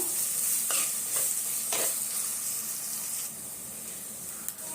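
Small shallots sautéing in a pan for fish curry, with a steady soft sizzle and a few brief stirring scrapes, quiet and close.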